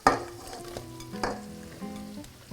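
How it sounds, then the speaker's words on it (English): Mushrooms sauté with onion in butter for risotto, a close, lively sizzle punctuated by a few spoon knocks and scrapes as they are stirred and coated. "Stir for a bit. Just coat all the mushrooms."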